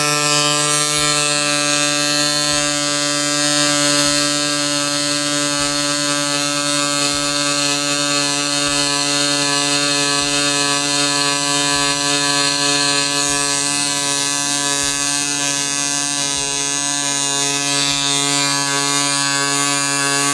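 A small electric pump buzzes continuously and loudly, with a faint regular pulsing, while inflating an updated Pirelli XC bicycle tire through a hose.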